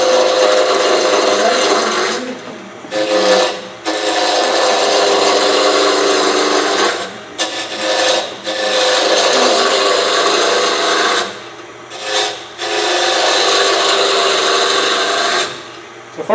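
Small wood cutoffs spun on a lathe and turned toward a cylinder give loud, continuous scraping cuts, broken by a few short pauses between passes, with no talking.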